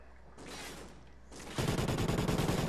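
Automatic weapon fire in the Call of Duty: Ghosts campaign, a soft distant rattle giving way to a loud, rapid burst of close shots that pounds on without pause and without talk.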